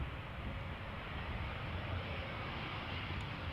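A KLM Embraer airliner arriving on runway 18R at Amsterdam Schiphol, a steady low engine roar heard from a distance, fairly faint and unbroken with no voices.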